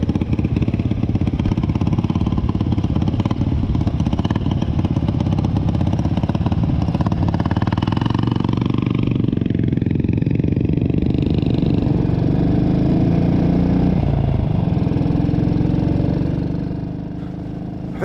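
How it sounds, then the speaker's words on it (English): A classic British single-cylinder Velocette motorcycle booms steadily and close during a ride-out, its deep, continuous engine note holding throughout before easing off at the end. "that Velo engine is booming away."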